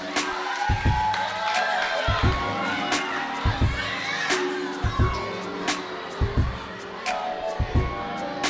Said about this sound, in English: give a round of applause to everyone that performed